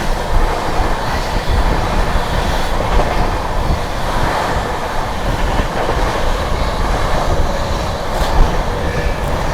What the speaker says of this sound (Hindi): भाई नॉन स्टॉप भाग रही है गाड़ी यार, शानदार राजधानी एक्सप्रेस।